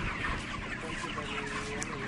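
Dense flock of chickens in a closed-house poultry shed clucking and murmuring continuously, a busy overlapping chorus with no talk.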